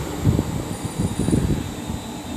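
A train with locomotive 35129 leading rumbles past on the West Coast Main Line at Marston Green, a continuous low, steady rolling roar at moderate distance with no voices.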